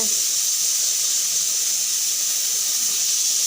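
A pressure cooker vents steam while meat cooks inside, giving a loud, steady, unbroken hiss that holds at an even level from start to finish with no other sound over it.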